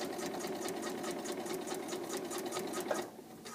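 A sewing machine stitches a line back across the top of a fabric piece, running in a fast, even mechanical chatter close by for about three seconds before stopping, with no voices.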